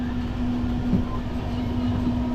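The Sealdah–Puri Duronto Express runs at full speed, giving a continuous loud rumble with a steady hum, as heard from on board, with no talk over it.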